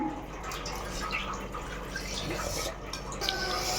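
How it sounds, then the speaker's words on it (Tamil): Water is poured into a cooking pot while making chicken biryani, a steady splashing, trickling flow heard up close without any talking. "இப்போ தண்ணி வந்து ஊற்றியாச்சு"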